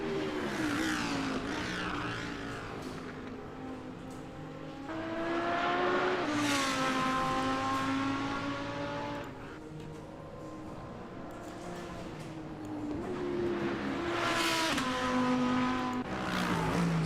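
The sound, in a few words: Lamborghini Huracan race car engine in racing video game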